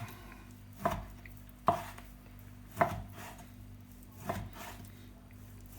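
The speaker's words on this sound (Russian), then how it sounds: "Грудку рубим мелко." Knife blade chopping turkey breast finely on a cutting board for turkey patties: four sharp, separate, fairly loud chops spaced about a second apart, with no talking.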